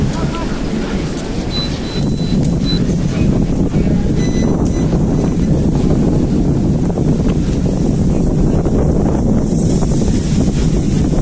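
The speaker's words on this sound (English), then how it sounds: "The wind is getting pretty rough if you can't tell." Strong wind buffets a microphone outdoors at a street protest in Toronto, producing a loud, constant low roar and rumble that fills the whole stretch.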